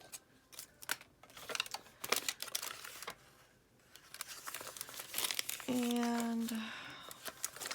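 A paper envelope is trimmed with scissors and crinkled up close, producing sharp crackles, snips and rustles with a brief tonal squeak midway; someone speaks a word.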